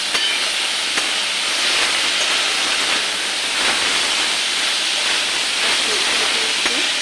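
Pasta that was rinsed in cold water sizzles in a frying pan, a steady bright hiss of oil with faint crackles, continuous and close throughout.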